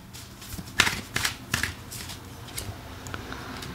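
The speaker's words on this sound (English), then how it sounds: "Let's pull some oracle cards" Oracle cards are shuffled by hand, a quiet series of crisp riffling flicks and soft slaps at close range, several bursts over a few seconds.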